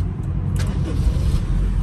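A car engine cranks and catches on a Tokyo street, a brief burst near the start over steady low rumble that keeps running close by.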